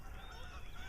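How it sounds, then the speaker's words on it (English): Geese honk faintly in the distance on a waterside walk, a few brief nasal calls rising over quiet outdoor background noise. "There go the geese again."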